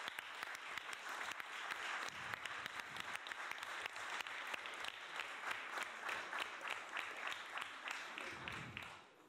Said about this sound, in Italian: Mi preme dire che questo applauso è un applauso che va fatto a tutti